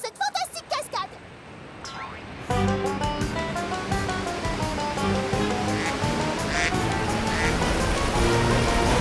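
Rushing water from a fantastic waterfall in a French-dubbed My Little Pony cartoon, a loud continuous roaring wash that bursts in after a short quieter stretch and keeps pouring steadily to the end.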